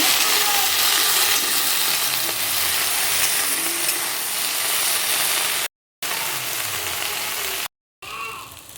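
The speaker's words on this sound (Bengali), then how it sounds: "এবার ঢ্যাঁড়স ভালো করে ভেজে নেব।" Okra fries in a pan with salt and turmeric, giving a loud, steady, close sizzle that runs on without a break, with faint stirring underneath and two brief cuts to silence.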